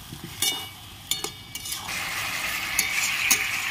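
A paste of soaked ground cumin, coriander and chili is stirred in a hot pan for a fish curry, with scraping stirs and clatters first, then a steady sizzle as it fries.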